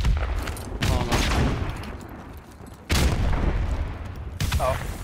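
Loud bursts of gunfire and a frag grenade explosion in a Call of Duty Modern Warfare Remastered match on Backlot, arriving in three heavy blasts with rumbling tails.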